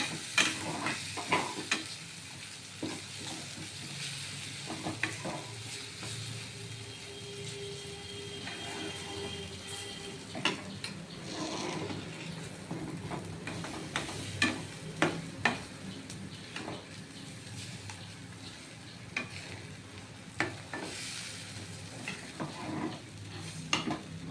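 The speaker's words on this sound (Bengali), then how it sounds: "এবার আমি দেখুন এই খুন্তি দিয়ে একটু কাই করে নেব" A spatula scrapes and stirs a bottle gourd kofta mixture in a hot kadai, producing steady close-up scraping and a soft sizzle with frequent sharp metal clicks throughout.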